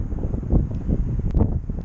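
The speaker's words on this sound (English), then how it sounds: "It's windy, so I'm talking loud so that I can talk over the wind." Wind on a house rooftop buffets the microphone with a close, loud, rumbling roar that rises and falls in gusts and never lets up.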